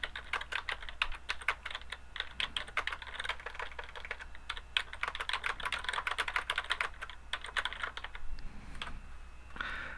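Someone types question text on a computer keyboard, producing a rapid, uneven patter of soft key clicks with short pauses, faint and close, over a low background hum.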